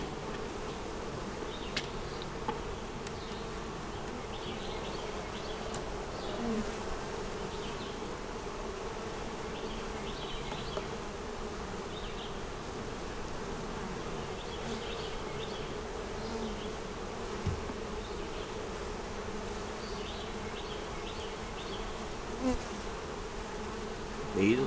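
Steady, dense buzzing of many bees swarming close by around a hive during an inspection, a continuous drone with occasional louder passes near the ear.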